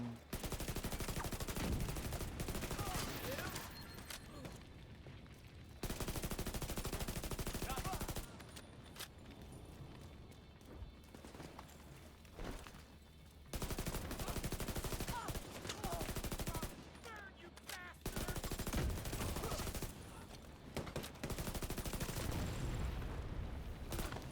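Gunfire in the video game The Division, repeated bursts of automatic fire and shots in loud stretches broken by quieter pauses, dense and close throughout.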